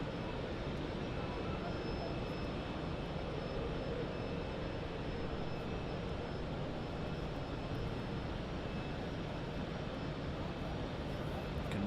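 Jet aircraft at Zurich Airport, a distant, steady engine roar and rumble that stays even throughout.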